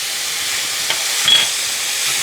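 Garlic and ginger sizzle steadily in a hot pan for mapo tofu, a soft continuous hiss with a brief scrape of stirring partway through, no voices.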